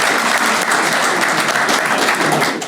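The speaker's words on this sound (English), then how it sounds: "Give him a round of applause for that." Crowd applause at a veterans' recognition breakfast honoring a long-married guest: loud, sustained clapping from the audience, close and continuous without a pause.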